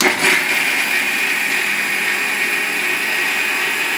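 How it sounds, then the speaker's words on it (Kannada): Electric mixer grinder blending groundnut chutney for idli: a steady, loud, high whirring motor drone with a slight strain at the start, running continuously and close up. "ಸೊ ಈಗ ಇದನ್ನ ರುಬ್ಕೊತ್ಯಾ? ರುಬ್ಕೊತೀನಿ ಅಷ್ಟೇ."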